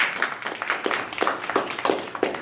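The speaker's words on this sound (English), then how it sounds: "Go ahead, you can clap." A small audience claps at a speaking event, with loose, uneven, moderately close handclaps in a brief scattered burst and no talking.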